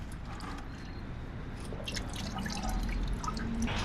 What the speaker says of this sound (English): Let's move the bucket over here because it's gonna drain from over here as well.